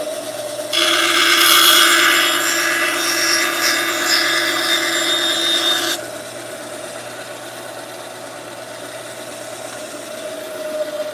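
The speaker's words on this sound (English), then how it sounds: "I'm just gonna trim a tiny smidge off these edges" A power tool trims the wood edges of a bunk bed frame, a loud rasping, whirring cut lasting about five seconds before dropping to a quieter motor hum.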